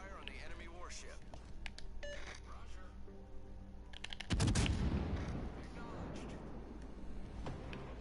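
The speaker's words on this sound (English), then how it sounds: "Concentrate fire on the enemy warship." Naval cannons in a video game fire at an enemy warship: a burst of heavy booming shots, with sharp reports scattered around, all under steady talk and game noise.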